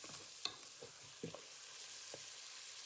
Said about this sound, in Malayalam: തക്കാളി ഇട്ട് കൊടുത്തിട്ട് നമുക്ക് ശരിക്കും ഒന്ന് സോട്ട് ചെയ്യാം